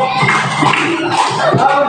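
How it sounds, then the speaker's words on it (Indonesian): Classroom students giving a group applause, a short burst of close, loud hand clapping with some voices mixed in. "Oke, beri tepuk tangan untuk kelompok"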